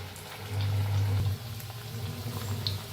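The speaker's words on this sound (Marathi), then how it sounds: "एक एक पीस घेऊन घालायचं असं तेलात" Pieces deep-frying in hot oil, a soft bubbling crackle with a low steady hum, rising slightly after the first half second and continuing at an even level, no speech.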